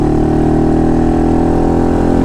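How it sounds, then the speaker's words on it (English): A steady, loud Termignoni exhaust on a Honda Monkey motorcycle drones at an even cruising pace, heard from inside the helmet, a deep continuous engine hum with no speech over it. "sound example of how this exhaust sounds in the helmet when you're just kind of cruising along"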